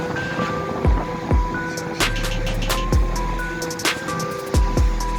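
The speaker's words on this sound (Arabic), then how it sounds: "والرياح قويه والبحر هائج" Strong wind and rough sea on the Spanish coast, a constant windy rush over the microphone with repeated sharp thumps and gusts roughly every second, loud and near.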